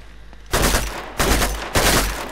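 Three loud, close gunshots ring out at an even pace in Uncharted 2: Among Thieves Remastered, each a sharp blast with a short trailing decay, after a quiet lead-in.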